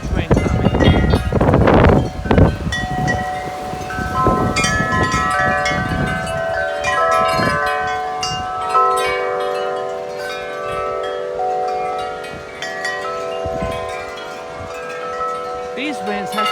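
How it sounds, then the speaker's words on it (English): Strong, gusty wind ahead of a storm roars over the microphone, with clattering and a ringing wind chime rising in the middle, loud and constant throughout. "There's a big wind coming,"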